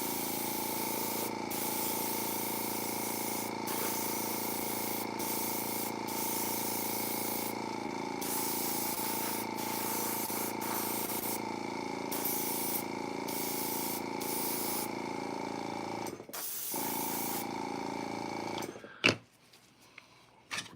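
An airbrush sprays paint onto a toy in a steady, continuous hiss that runs almost without a break for the first eighteen seconds, with a few short pauses, then trails off into quieter handling noises.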